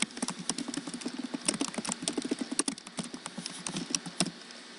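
Rapid, uneven keystrokes clatter on a computer keyboard while a title is typed into a Google presentation slide, close and clear with no voices, bursts of clicks running steadily throughout.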